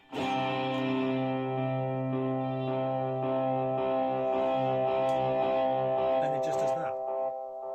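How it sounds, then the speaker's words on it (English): A sustained, distorted tone through a transistor tape delay with feedback maxed swells with repeating echoes that pile up and smear together, then fade off at the end. "momentarily turns on the transistor tape and maxes the feedback on this"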